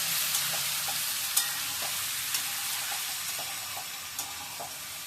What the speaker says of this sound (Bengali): ডিমগুলোকেও উল্টো পাল্টে একটু ভেজে নিচ্ছি।